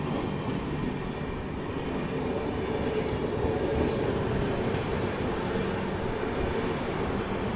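Amritsar Shatabdi Express rumbling past at a busy Indian railway station near Jalandhar Cantonment, a loud continuous roar of wheels and carriages with rhythmic clatter, heard close and steady throughout.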